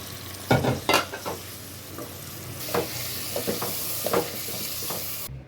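Onions frying and browning in a hot pan, a steady soft sizzle punctuated by stirring scrapes and clinks at irregular intervals.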